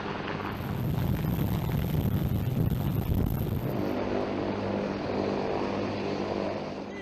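Loud, steady rotor and engine roar from a nearby military helicopter carrying Marines, dense low rumble with broadband noise, continuing throughout without any voices.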